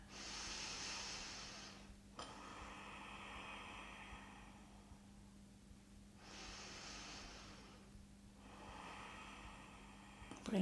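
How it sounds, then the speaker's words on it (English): Two long, deep, hissing breaths during a beginner yoga warm-up, each a slow inhale followed by an exhale with quiet pauses between, close and soft with no speech. "Take 2 big breaths here."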